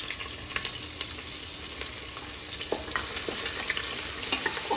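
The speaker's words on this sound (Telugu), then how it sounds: "నెక్స్ట్ చెక్క, స్టారు, లవంగాలు, ఒక బిర్యానీ ఆకు చిట్టుపడుతున్నాయి కదండి." Cinnamon, star anise, cloves, bay leaf and onion sizzle and crackle steadily in hot oil while being stirred for a home-style tomato bath, close with scattered small pops.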